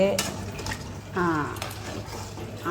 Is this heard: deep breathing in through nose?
no